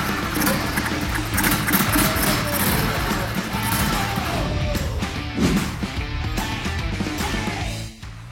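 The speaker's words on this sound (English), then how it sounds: "Now that we know that the engine is working" A motorcycle engine on a rat bobber build runs steadily, a loud close rough idle with irregular mechanical clatter and a brief knock near the end, faint voices underneath.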